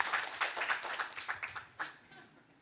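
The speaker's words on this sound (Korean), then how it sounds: "우리 두 사람 박수 한번 쳐주세요" A church youth camp audience gives brief, quiet applause for two people, a scattered run of claps that fades out after about two seconds.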